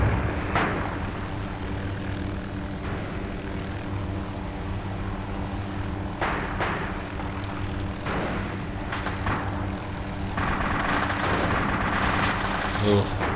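Scattered sharp gunshots aimed at a truck ring out over a steady droning aircraft engine, with isolated cracks early on and a denser burst of fire near the end.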